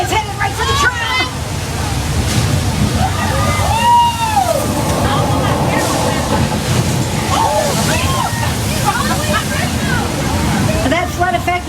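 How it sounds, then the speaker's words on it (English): Thousands of gallons of water dumped from hilltop tanks rush down as a staged flood effect on a studio tram tour, a loud continuous roaring slosh with people talking and exclaiming over it. "That flood effect was caused by dumping thousands of gallons of water from tanks at the top of the hill."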